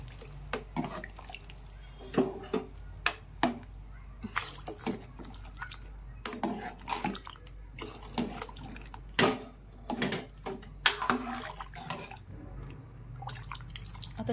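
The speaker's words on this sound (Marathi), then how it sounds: "आता आपण त्याच्यात थोडंसं गरम पाणी टाकू" Hot water is poured into a drumstick masala curry in a pan, heard as scattered drips, splashes and small clinks against a low steady background hum.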